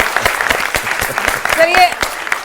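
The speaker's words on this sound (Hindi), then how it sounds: "एक बार फिर ताली बजा दीजिए, अच्छा लगेगा।" An audience applauds at a talk, a brisk patter of hand claps that stays fairly loud throughout, with a voice speaking over the clapping.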